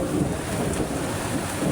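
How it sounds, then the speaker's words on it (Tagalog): Steady heavy rain pours down in a dense, continuous hiss with a low rumble of thunder underneath. "Ang lakas po ng ulan dito sa amin. Kumukulog at kumikidlat pa po"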